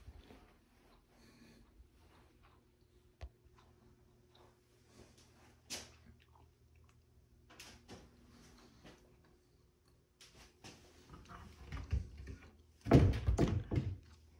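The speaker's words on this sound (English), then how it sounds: "quiet close cabinets. You kind of let them go and they close by themselves" Soft-close kitchen cabinet doors easing shut in a quiet room, giving a few faint muffled thuds and taps, followed by a louder cluster of knocks and clatter near the end; no one speaks.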